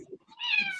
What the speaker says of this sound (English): What's making noise? My cats.